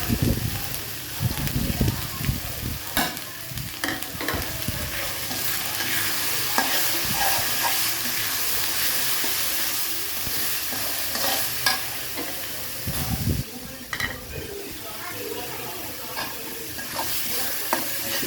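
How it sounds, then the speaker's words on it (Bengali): Chili, turmeric, cumin and coriander powders stir-fried with duck in a pan: steady sizzling under repeated scraping and stirring strokes, close and fairly loud, with thicker bursts of stirring at the start and again later. "ভালোভাবে আমি ওগুলোকে কষিয়ে নেব"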